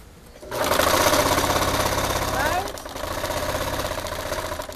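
A sewing machine stitching the curved edge of a circle skirt runs in a loud, steady mechanical whir, pausing briefly before continuing, close up.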